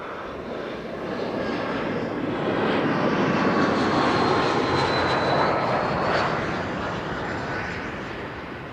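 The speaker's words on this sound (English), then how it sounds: "KLM 1818, arriving from Frankfurt, 48 minutes on the way, Embraer 175, 9 years old, first flight February 2017" A KLM Embraer 175 regional jet arriving at Amsterdam Schiphol, its engine roar swelling as it passes close by, peaking midway and then easing off, with no voices.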